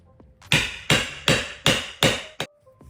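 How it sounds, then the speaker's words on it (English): A hammer strikes a hole-making punch set on a plain white cotton T-shirt, five loud, evenly spaced blows followed by a quicker sixth tap, each ringing briefly before the next. "Then we're gonna hammer."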